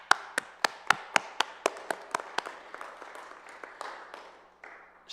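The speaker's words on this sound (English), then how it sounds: "maybe just a round of applause for supporting our veterans." A few people clapping at a public hearing on veterans, sharp separate claps in a fairly quick rhythm that soon thin out into scattered, fading claps and quiet room noise.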